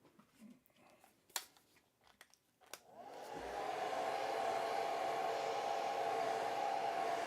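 A hair dryer blows steadily on a watercolor landscape painting, starting after a few soft handling clicks and then running as a loud, continuous close-up whoosh to the end.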